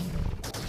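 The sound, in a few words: shotgun firing in the video game Terraria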